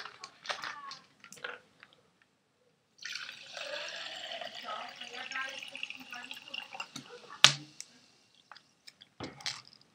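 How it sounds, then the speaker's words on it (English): Fizzy water poured into a cup makes a close splashing, hissing pour that lasts a few seconds, with drips and small clinks around it. A person talks briefly. "See a little bit of fizzy water."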